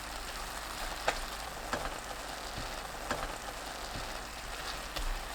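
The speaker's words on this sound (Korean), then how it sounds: "10분 후에 골고루 섞고 파, 청양고추 넣어 센 불로 30초 볶아주세요" Aged kimchi stir-fried over high heat with green onion and Cheongyang chili, a steady soft sizzle with occasional faint clicks of stirring, no voices.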